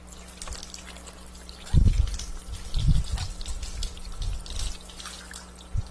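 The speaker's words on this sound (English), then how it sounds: "we're going to rinse them again with 90 degrees water" Eggs being rinsed under hot water at about 90 degrees, a steady running stream with splashy bursts and trickling as the shells are moved under the flow, with no talking.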